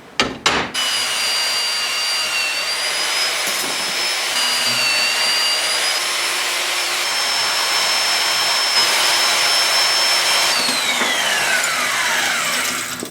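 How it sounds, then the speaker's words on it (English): A power saw cuts threaded rod into one-foot pieces in a workshop while building a forge: a loud, steady cutting whine with a high metallic tone runs for about twelve seconds after a brief start-up burst, with no talking. "Now the first thing I need to do, I need to cut 4 pieces of threaded rod,"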